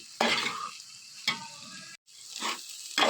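Beans curry frying and sizzling in a pan while being stirred, with scraping strokes recurring at steady intervals and a brief drop to near silence midway.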